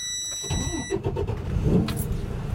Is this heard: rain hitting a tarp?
no